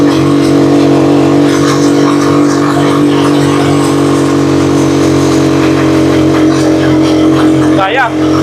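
A heavily loaded Rusi Chariot 175 motor-tricycle hauling ten water containers climbs a steep uphill road in second gear, its engine droning loudly and steadily with a labored hum, and a person speaks briefly near the end.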